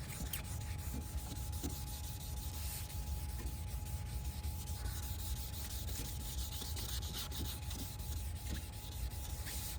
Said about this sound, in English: I'm gonna wrap that around, wet that, and you're gonna start sanding